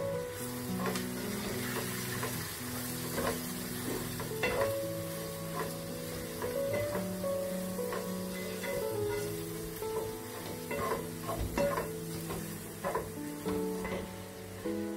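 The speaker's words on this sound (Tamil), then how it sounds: "நான் இப்போ அதை நல்லா வந்து மிக்ஸ் பண்ணி விட்டுலாம்" Masala and pepper powder stirred in a pan for a king crab pepper gravy, with steady scraping and frying sizzle running throughout, alongside a tonal musical backdrop.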